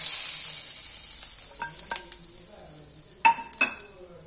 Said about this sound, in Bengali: 1 চামচ কাশ্মীরি লাল লঙ্কা, ওটা ঘিয়ের মধ্যে ভেজে নিন